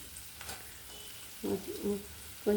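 Onions softly frying in a pan for a Telugu potlakaya perugu pachadi, a faint low hiss with a few short scraping stirs near the end.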